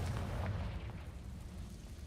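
A Confringo blasting spell explodes in Hogwarts Legacy, a dense low rumbling burst that swells loudly at first and then rolls on as a steady, fading boom with no voices.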